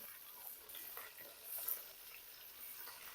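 Fish heads frying in oil give a faint, steady sizzle with soft crackles, alone and quiet throughout.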